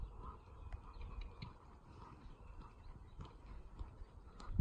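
Horse cantering in a riding arena, hooves thudding in a steady rolling rhythm, faint and somewhat distant with light background noise.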